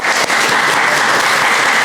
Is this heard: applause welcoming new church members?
yes